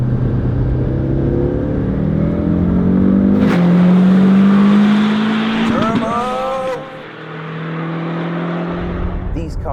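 A Fiat Punto GT with a turbocharged 1.4 litre engine revs hard, its loud exhaust drone rising and falling, with a sharp rev burst and tire chirps near the middle before the engine note drops and returns.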